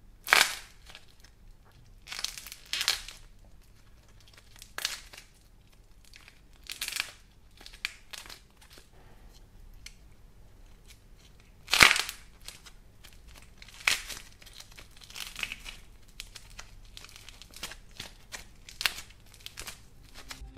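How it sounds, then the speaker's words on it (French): Aluminium foil is crumpled into balls by hand in bursts, each a crisp crackling crinkle lasting a second or so, separated by quiet pauses, close and intimate with one sharper crunch midway. "Les boules avec du papier aluminium."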